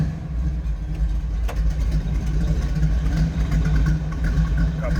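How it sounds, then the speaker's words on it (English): A 1948 Chevrolet Stylemaster street rod with a 350 V8 and mild cam idles with a steady low rumble, loud and close, running evenly throughout. "You can hear this run. A little rumble coming out of that 350."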